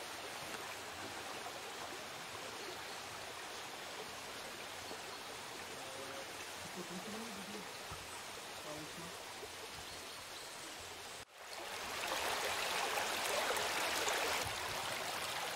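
A forest stream flows steadily near a pond, a continuous broadband rush that grows louder and closer in the last few seconds, with no voices.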